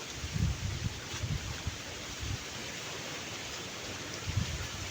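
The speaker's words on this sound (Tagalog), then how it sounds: "Kusog sangin. Sabi ako kusog sangin." Strong wind blows outdoors among banana plants, a steady broadband rush with low, buffeting gusts rumbling in bursts throughout, no voices.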